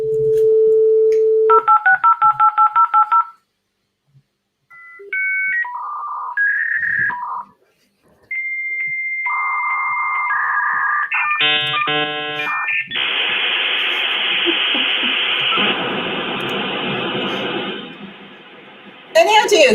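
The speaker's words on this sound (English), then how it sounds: "That would be a modem connecting online, often to a BBS, bulletin board service, like a CompuServe, right?" Dial-up modem connecting online: a burst of DTMF dialing tones, a brief pause, then a sequence of handshake whistles and chirps giving way to loud, sustained broadband static hiss, with no talk throughout.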